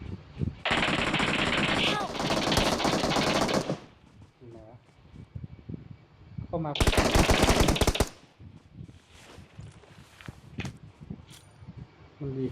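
Automatic weapon fire in the PUBG battle royale game: two long, loud sustained bursts of rapid gunfire, with quieter shuffling, footsteps and faint game sounds between them.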